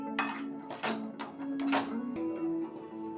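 A spoon scrapes and clinks against a pan as a sugar and grated coconut mixture with cardamom is stirred for coconut vadi, producing soft, repeated scraping strokes at close range, fairly quiet.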